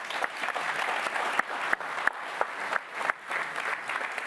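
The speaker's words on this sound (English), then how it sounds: "Round of applause for our panelists." Conference audience at a mobility summit gives panelists a steady round of applause, close and continuous, with a few sharper individual claps standing out.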